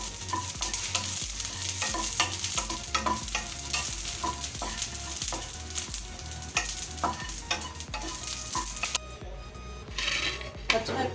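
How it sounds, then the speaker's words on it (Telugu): Green chillies fry in a little oil, a close, continuous sizzle and crackle marked by frequent rhythmic clicks of a spoon stirring against the pan, easing slightly near the end. "కొద్దిగా నూనె వేసి మిరపకాయలు వేయించుకుంటున్నాను."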